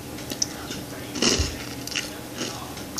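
Someone eating crunchy Reese's Puffs cereal bites down close to the mic, with soft irregular crunches and chewing and one louder bite in the middle.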